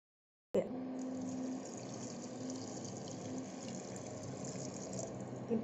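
Water poured from a mug into a pot of moong dal cooking with bottle gourd, a steady close splashing flow lasting several seconds with no talk.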